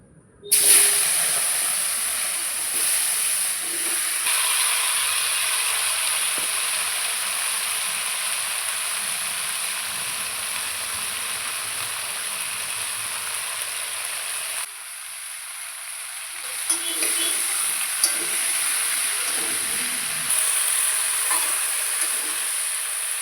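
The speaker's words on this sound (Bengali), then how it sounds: "আমি সবজিগুলো সবগুলো লবণ হলুদ দিয়ে তেলে ভালো করে ভেজে নেব" Vegetables fried in oil with salt and turmeric give a loud, steady hissing sizzle that starts abruptly and holds throughout, dipping briefly midway before continuing close and strong.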